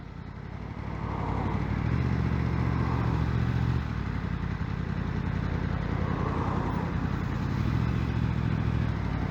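A Yamaha MT-10 motorcycle with its stock exhaust being ridden, a loud, steady engine roar close by with wind noise and a couple of surges in revs as it accelerates.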